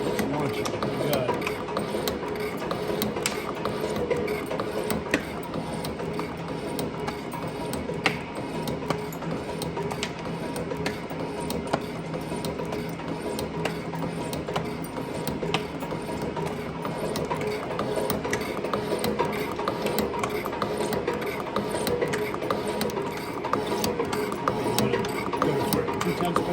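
A metal shaper machine cuts steel with its clapper box angled for a deep cut, giving a steady, continuous mechanical clatter and ratcheting that runs throughout at an even, moderate level.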